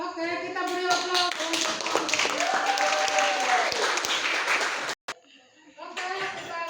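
A classroom of students gives a round of clapping for several seconds, with a teacher speaking over the applause before it cuts off and talk resumes.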